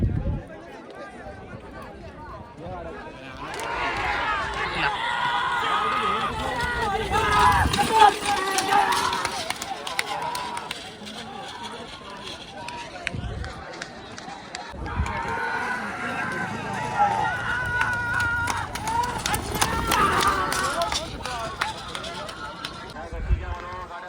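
Bullocks haul racing carts at a village bullock-cart race, hooves pounding in rapid runs that swell twice as the teams pass, under crowd noise and people talking.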